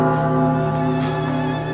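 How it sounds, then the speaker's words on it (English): A school bell rings with a sustained, loud metallic tone that holds steadily through the whole moment, with no voices over it. "That's the bell."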